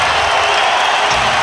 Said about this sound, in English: And the crowd is going to give Draymond Green a standing O.